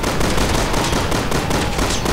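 Dense, loud rifle gunfire from the Resident Evil 6 video game rattles continuously, with shots blending into a sustained barrage close by.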